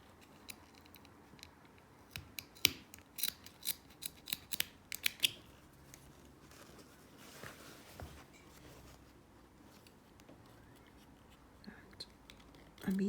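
Scissors snip away excess fabric from a zipped make-up pouch, a quick run of crisp close cuts early on, then a few quieter snips amid faint handling noise in a quiet room.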